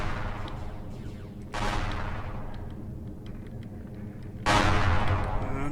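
Main guns on a spaceship in a space combat game firing, two heavy booming bursts a few seconds apart over a steady low engine rumble, loud and near.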